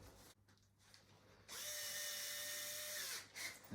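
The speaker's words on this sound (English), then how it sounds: "And then we're going to put our screws back in place." A power drill driving screws back into a Baby Jogger City Sights stroller frame whirs in one steady burst of about two seconds, close and fairly quiet, after a short stretch of faint handling noise.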